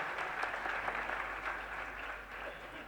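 Applause from an audience at an awards ceremony, a steady dense wash of clapping held at an even level throughout, heard alone and somewhat distant.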